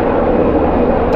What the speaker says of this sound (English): some helicopters going by